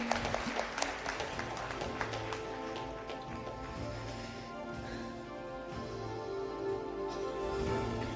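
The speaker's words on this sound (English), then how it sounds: "Let's give her a huge round of applause." An indoor audience claps for the best employee of the year 2023, a steady spatter of applause that continues throughout.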